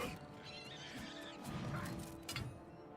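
A horse whinnies in the soundscape of Elder Scrolls IV: Oblivion Remastered, a sharp neigh amid rumbling hoof and impact noises, fairly close, with a faint clatter near the end.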